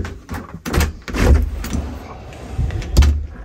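A door is shut several times in a row, giving a series of loud nearby thuds and latch clunks with rattling between them, and no talk.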